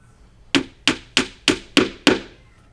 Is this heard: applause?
no